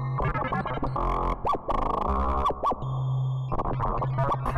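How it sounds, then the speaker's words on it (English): Warm Novation Peak synthesizer notes with a swirling chorus and shimmering, lingering shimmer reverb tails, some pitches sweeping up and down. "And a bit of reverb just to give it a nice little effect"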